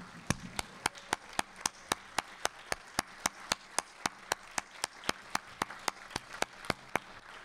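Quiet, evenly spaced single claps at a formal dinner honoring fellows, sounding like one person clapping in a slow, regular rhythm over a faint room background.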